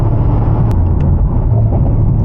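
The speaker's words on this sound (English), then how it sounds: "Oh, those downshifts." A Mercedes-AMG SL V8 in manual mode, heard from the cabin as a loud, steady low rumble of engine and road noise with a few brief sharp pops during downshifts.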